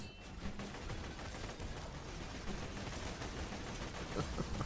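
Dense turret gunfire in the video game Borderlands 4, a steady continuous clatter of rapid shots that holds at moderate loudness throughout without pause.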